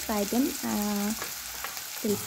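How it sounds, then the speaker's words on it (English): Chopped onions frying in oil with cloves, cardamom and cinnamon, a soft steady sizzle running beneath a voice that sounds in short bursts. "we'll put about 2 medium-sized chopped onions, and we'll fry them"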